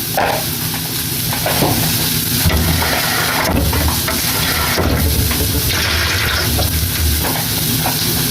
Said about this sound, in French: Donc je vais passer l'eau.